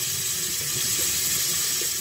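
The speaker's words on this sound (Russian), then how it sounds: "моем кисточку, не жалея воды и мыла, агрессивно притирая к ладони" Running water pours steadily as an artist's paintbrush is washed with water and soap against the palm, a close, even splashing hiss lasting about two seconds.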